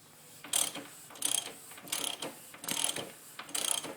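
A ratchet tightens the swingarm axle on a Honda ATC250ES three-wheeler, giving five short bursts of close, crisp clicking at a steady pace with brief pauses between strokes.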